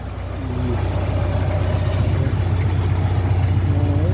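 Tractor engine labouring steadily while pulling a Demetra mini 2400 seed drill loaded with grain, a loud, close, continuous low drone with a rhythmic throb and no speech.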